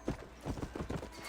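Horse hooves galloping in the 2010 video game Red Dead Redemption: a steady, rhythmic clip-clop of hoofbeats, fairly close and continuous, with no talk over it.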